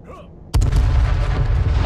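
A bomb explodes in H1Z1 King of the Kill, a battle royale game, with a sudden loud, close blast that becomes a sustained, deep rumble filling the rest of the moment.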